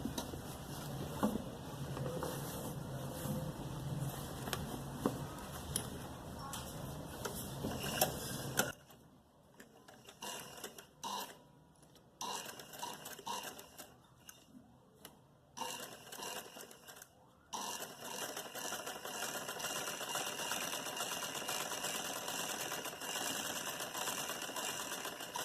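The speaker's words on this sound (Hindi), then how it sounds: "अब हम अपनी फिटिंग की सिलाई करेंगे।" Sewing machine stitching the hem fitting of a salwar, steady mechanical whirring at first, then stop-start bursts and a return to continuous running, close and moderately quiet.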